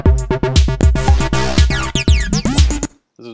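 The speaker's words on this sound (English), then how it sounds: "this is just a quick little beat that I made for this tutorial." A short homemade electronic beat plays back loudly with a steady, punchy rhythm of repeated hits and tonal stabs, then cuts off abruptly near the end, leaving a brief quiet tail.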